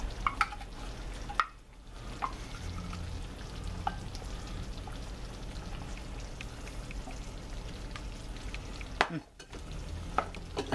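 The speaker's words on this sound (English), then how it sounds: "Got a cup of sour cream. Add this, mix it in" Sour cream being stirred into beef stroganoff in a pan, a continuous soft sizzle and scraping stir with brief clacks of a spoon against the pan and two short pauses, close and without talk.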